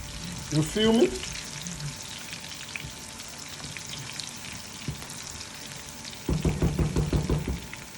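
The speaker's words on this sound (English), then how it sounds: "Now, that's my tomato in there. We're going to deep fry this thing properly." Tomato deep frying in hot oil after herbs and basil go in: a loud sizzling burst near the start, a steady crackling fry underneath, then another strong bubbling surge toward the end.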